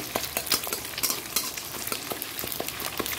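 An egg fries in a pan for biryani, a close, continuous sizzle broken by repeated spatula scrapes and taps against the pan, with no talk.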